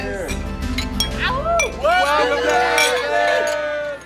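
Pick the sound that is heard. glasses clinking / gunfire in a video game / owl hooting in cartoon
glasses clinking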